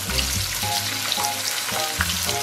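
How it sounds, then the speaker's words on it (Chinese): Chopped scallion, ginger and garlic sizzle in moderately hot oil in a wok as they are gently stir-fried for braised pork trotters, a close, steady crackle with no talking. "轻轻的煸炒。"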